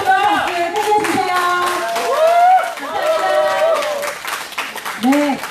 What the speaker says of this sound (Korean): 비비카트에게 다시 한 번 더 박수 해주세요